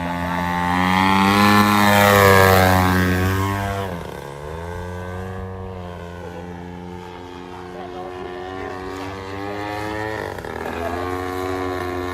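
A light aircraft's engine drones in flight, a loud harmonic whine that swells and then eases as the power changes, close and continuous, with a voice talking briefly over it.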